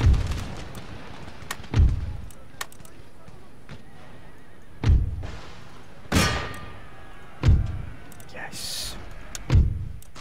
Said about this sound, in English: That cannon was absolutely crucial to our victory there